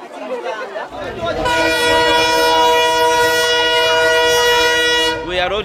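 A freight train on the Tanzania-Zambia Railway blasts a long, loud multi-tone horn up close for several seconds over rumbling rail noise, then the horn cuts off.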